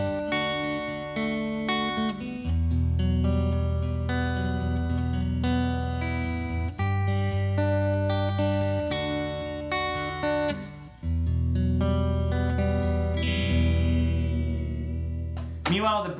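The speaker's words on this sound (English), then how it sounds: "The neck position on this guitar gives you a really warm rhythm sound" A Duesenberg Mike Campbell Alliance I electric guitar on its neck pickup plays a warm, full rhythm part of sustained chords, steady and prominent with no voices.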